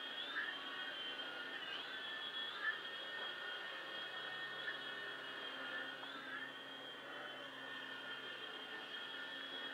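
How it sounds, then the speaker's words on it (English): A small Syma S39 Raptor toy RC helicopter flies indoors in a house, giving off a faint, steady whirring whine whose pitch shifts slightly as it moves. "It's a great little helicopter to fly around your house"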